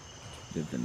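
An insect swarm buzzes and chirps over old bodies in a first-person shooter, with a faint steady drone that grows into two louder, close chirring bursts near the end.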